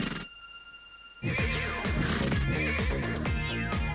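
A horse neighs loudly in the children's game Tasty Planet, a bright whinny with falling and rising tones that follows a quiet opening of electronic tones and continues for a few seconds.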